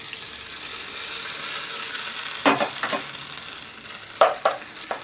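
Hot tempering with curry leaves poured into hotel-style chutney gives two sharp sizzling bursts over a steady low hiss, close and fairly loud, with no talking.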